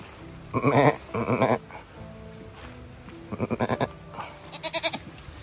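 Goats bleat in short, wavering bursts, several calls in a row close by, with quiet pauses and faint background noise between them.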